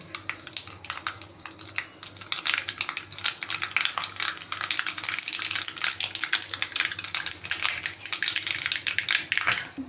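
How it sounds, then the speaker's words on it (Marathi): Mustard seeds and cumin spluttering in hot oil for potato rassa curry, a dense crackling sizzle with rapid popping throughout, steady and close, no talk. "तेल गरम झाले बघा। आता आपण घालूया मोहरी, आपण जिरे,"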